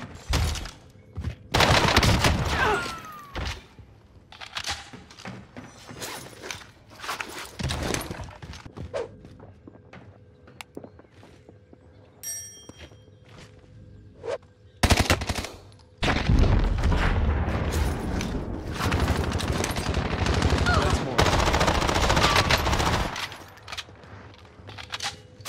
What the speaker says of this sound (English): This gun is really hard to control.